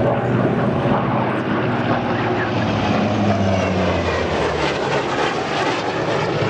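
A Hawker Sea Fury, a high-performance propeller aircraft, flies past at the Ferté-Alais airshow. Its piston engine drones loudly and steadily, and the pitch shifts as it passes.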